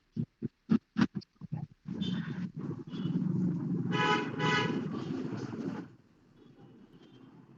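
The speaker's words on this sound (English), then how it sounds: "there is some traffic noise" Street traffic noise with car horn honking comes through a participant's microphone during an online session: a rapid run of sharp bursts, then a sustained, loud, rough blare with tonal horn-like swells before it drops to low background hiss.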